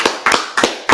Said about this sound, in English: I think we're going to clap.